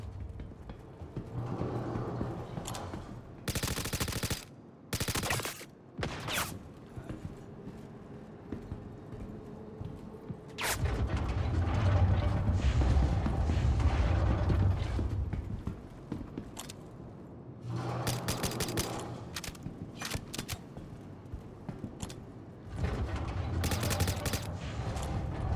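Gunfire in a Space Viking-themed video game, coming in sharp, loud bursts and volleys spread across the stretch, with a rumbling dense passage in the middle and quieter gaps between.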